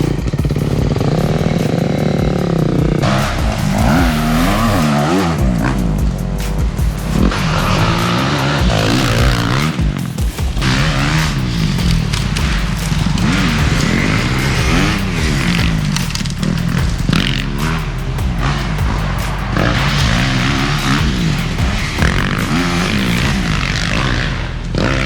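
Kawasaki KX250X and Beta 350 Race Edition off-road motorcycles ride nearby, engines loudly revving up and down in repeated rising and falling sweeps as they accelerate and shift, sustained with no talking.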